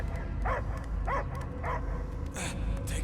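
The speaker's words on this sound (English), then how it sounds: "I hear only barking." A dog barks in the Guardians of the Galaxy video game, a few short yelps and whimpers in quick succession over a steady low background rumble.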